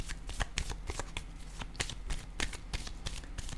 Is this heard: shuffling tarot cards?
yes